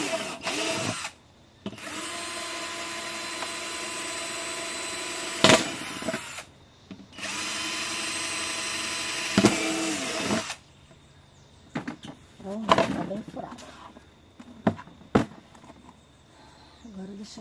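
A power drill bores drainage holes in a plant pot while repotting large anthuriums. It runs in two long whining bursts with brief pauses, then gives way to scattered clunks and handling noises, and a voice talks intermittently.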